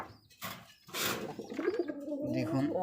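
A pigeon coos in a few soft, throaty bursts close by, with brief rustling noises between the calls.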